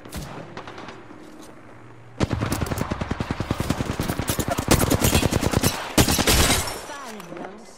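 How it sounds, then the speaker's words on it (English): Gunfire in the video game Apex Legends: a long rapid burst of automatic shots from about two seconds on, dense and close, with further volleys and a heavy blast near the end, over faint background game ambience. "I'm getting shot at"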